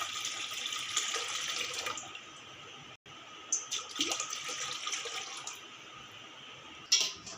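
Water runs from a tap into a bowl in a home kitchen, a steady hiss that pauses briefly and resumes with a few splashy bursts, no voices.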